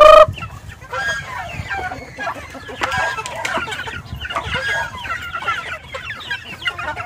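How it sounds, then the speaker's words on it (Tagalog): Flock of chickens clucking busily as they eat maggots fed to them in the late afternoon, a steady overlapping chorus of clucks and squawks, close by and continuous throughout. "ang ibang manok kumakain na po"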